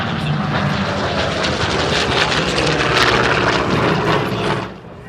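A Douglas A-1 Skyraider propeller aircraft flies past at an air show, a loud, steady rumbling engine roar that swells slightly at its peak and then drops away near the end.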